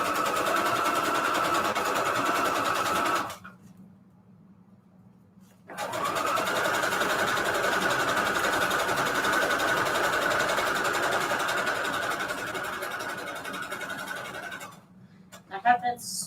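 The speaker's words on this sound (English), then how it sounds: "I have been sewing all the way, like all the way down to where the other strip is." Sewing machine stitching fabric strips for a string quilt, a steady whirring run that pauses briefly, then resumes for a long even stretch before stopping with a few clicks.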